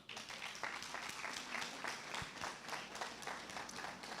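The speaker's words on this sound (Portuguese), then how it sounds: "Você pode aplaudir o Senhor?" Applause from a church congregation during a Sunday Bible school service, a steady dense patter of many hands clapping at moderate volume throughout, fairly quiet and slightly distant.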